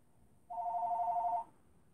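A landline telephone gives a single electronic ring burst of about a second, moderately loud in a quiet room.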